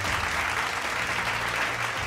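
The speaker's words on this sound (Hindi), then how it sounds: "एक बार जोरदार तालियां।" A crowd at a business conference in Bhopal claps steadily and loudly, a continuous wash of applause with no break.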